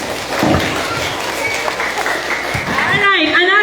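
A school crowd claps loudly and continuously after a student election speech, with voices speaking and cheering over the applause throughout.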